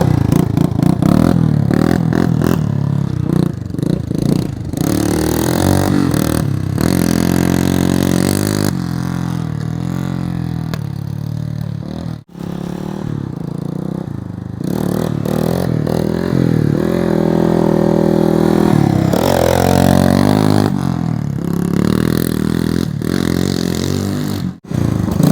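A 225dx three-wheeler with brakes under repair, its engine running loud and close, revving and clattering as it pulls away, with changing pitch through the ride and a brief drop midway.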